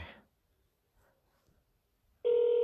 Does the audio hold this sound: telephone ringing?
yes